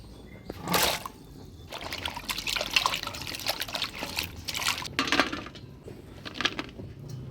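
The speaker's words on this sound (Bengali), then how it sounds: "এই ভিন্ডিটা এখন আমি ধুয়ে কাটিয়ে নিব" Okra is rinsed in water with trickling splashes and wet handling, sporadic and close, with brief clinks against a bowl.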